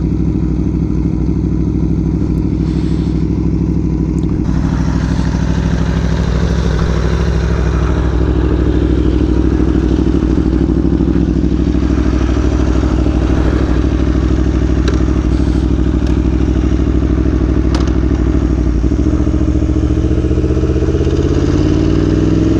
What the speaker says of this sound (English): That is a hot motorcycle.